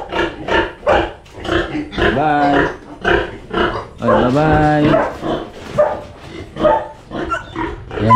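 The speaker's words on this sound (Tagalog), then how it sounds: "Pass muna tayo sa baboy, hindi na maalagaan." Pigs being sold off from a farm, giving a run of loud rhythmic grunts and a couple of longer squeals close by, with a brief spoken farewell mixed in.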